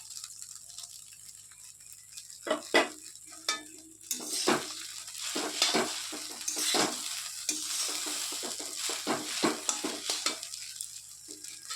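Egg chowmein being stir-fried in a pan at home, with sizzling oil, a spatula scraping and clattering against the metal, and irregular stirring rattles that grow busier midway, with no voices.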